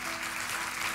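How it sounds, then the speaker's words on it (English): Steady clapping from a church congregation, a dense wash of applause sustained throughout the brief moment. "A round of applause."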